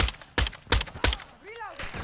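G3 rifle gunfire in the video game Modern Warfare II: four sharp, loud single shots at an even, measured pace, followed by a brief sweeping tonal sound.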